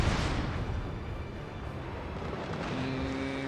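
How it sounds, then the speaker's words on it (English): A naval cannon firing solid shot at a Russian ship in the strategy game Shogun 2, a deep rumbling boom that fades into a steady low roar of battle noise. "We're gonna fire on the second Russian ship here."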